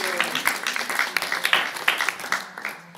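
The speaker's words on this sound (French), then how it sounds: "Moi, je pense qu'on peut applaudir quand même" A congress audience gives scattered applause after a testimony on educational work with adolescents, with individual claps audible and fairly close, fading out toward the end.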